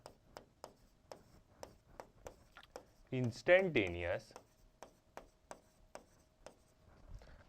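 Pen writing an instantaneous current equation during a physics lesson, a regular series of short, distinct taps and strokes close by, broken by a brief spoken phrase midway.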